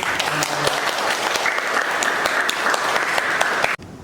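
An audience in a classroom session claps loudly and steadily for a presenting group, a close, dense burst of applause that stops abruptly at the end.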